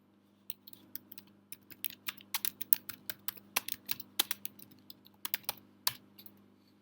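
Typing on a computer keyboard while searching for Azure AD Connect, a quiet, close, irregular patter of crisp key clicks arriving in quick clusters with brief gaps, and no talking.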